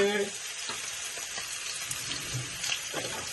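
Onions hitting a pan for pork curry, a soft steady sizzle and hiss with a few faint clinks, quiet and close.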